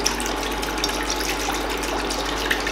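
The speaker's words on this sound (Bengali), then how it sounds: "এরপর কড়াইটার মধ্যে আন্দাজ মতো কিছুটা জল দিয়ে দেব" Water pours steadily into a wok holding a steaming stand, making a close, continuous gushing splash that lasts throughout with no voices.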